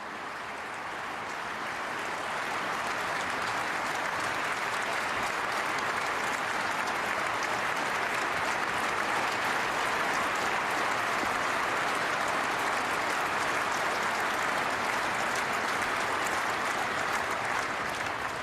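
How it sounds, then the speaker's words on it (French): A large hall audience at a speech by Vladimir Putin breaks into applause that builds over the first couple of seconds, then holds as a thick, steady, loud roar of clapping with no voices on top. "cette réaction de la salle, c'est pour applaudir les habitants"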